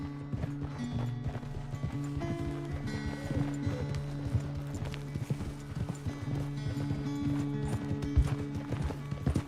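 Horse hooves clip-clopping at a steady riding pace in the video game Red Dead Redemption 2, a continuous rhythmic patter of hoofbeats under in-game music, with faint talk in the background.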